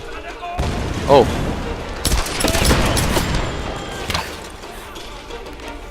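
Gunfire in the video game Tomb Raider: several loud sharp shots and bursts of automatic fire with booming reports, close and dense in the middle, while someone talks and briefly exclaims over it.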